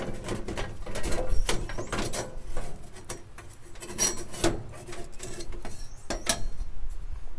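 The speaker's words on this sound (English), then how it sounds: "you shove this access panel forward, then it pulls out" A Weber Genesis grill's access panel is shoved forward and then pulled out, producing scraping metal rasps and knocks in irregular bursts, close by and moderately loud.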